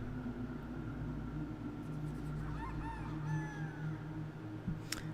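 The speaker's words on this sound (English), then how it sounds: "I heard one of our roosters crow" A rooster crows once, at a moderate distance, over a steady low rumble of background noise, followed by a brief sharp click.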